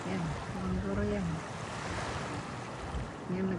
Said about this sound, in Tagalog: Yan ang dagat, guys.